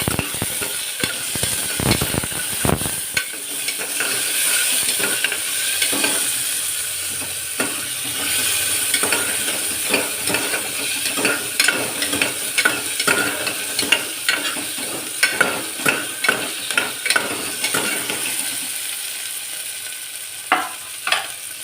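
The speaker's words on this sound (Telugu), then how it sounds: "పెసరపప్పు తాలింపు అండి పెడుతున్నాను." A moong dal tempering with onion, tomato and green chilli sizzles in a pan while a spoon stirs and scrapes in repeated sharp strokes over a constant frying hiss, loud and close, with no voices.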